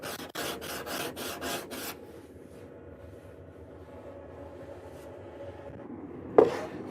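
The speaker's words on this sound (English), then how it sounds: "I'll just spend a few minutes with a sanding block with some sandpaper attached" Quick, rhythmic rasping strokes of a sandpaper-covered sanding block smoothing curved wood by hand, about six in a row, followed by quieter scraping and a sharp knock.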